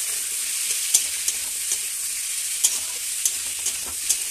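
Okra sizzles as it fries in a pan, a steady hiss broken by several sharp scraping stirs of a spatula at irregular intervals, with no one talking.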